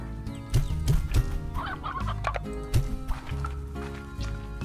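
Chickens cluck repeatedly in the Slime Rancher video game, moderately loud over a steady background of game music and squishy, slapping sound effects.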